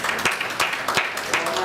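Audience at a talk applauding the speaker's wife, a short burst of brisk clapping from many hands with some crowd murmur mixed in.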